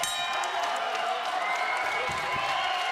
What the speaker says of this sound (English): This crowd really appreciating this fight.